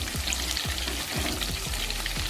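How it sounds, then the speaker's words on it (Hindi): Chicken pieces frying in a pan for pineapple chicken, giving a steady close sizzle with low-pitched bubbling and a few repeated soft knocks or stirs, no voices. "चिकन हमारा फ्राई हो चुका है"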